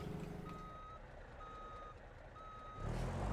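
A truck's reversing alarm while it backs up: three evenly spaced, steady electronic beeps, fairly faint over low engine rumble, with the engine swelling louder at the end.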